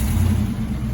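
An old Ford Mustang Mach 1 engine runs with a low, steady rumble, close and fairly loud for a brief moment with no voices.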